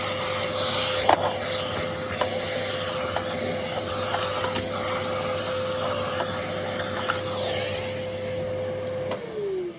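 A Dirt Devil handheld vacuum runs close and loud for the whole stretch, a steady whine over a low motor hum, broken by small clicks of debris, with a brief pitch shift near the end.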